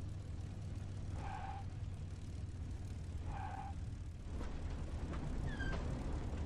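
Simulated aircraft engine in the IL-2 1946 flight game, a steady droning hum as the plane is throttled back for landing, with a couple of faint tonal beeps over the continuous engine noise.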